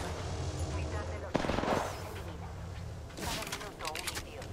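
Gunfire in the battle-royale shooter Apex Legends, with two sharp bursts of shots cutting through a low rumbling game soundscape while a voice talks over it.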